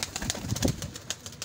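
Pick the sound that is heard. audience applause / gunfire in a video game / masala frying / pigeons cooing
pigeons cooing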